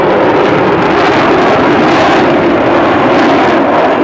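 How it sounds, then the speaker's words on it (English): F-15 fighter jet pulling onto the runway at the 2003 Andrews AFB air show, a loud, steady, broadband engine roar that stays constant throughout, close by and with no talking. "Now our F-15 is pulling on to the runway"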